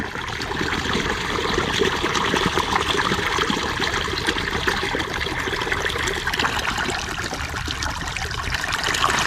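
Irrigation water driven by a diesel pump pours and splashes in a steady, dense rush that stays constant and fairly loud throughout, with no talking.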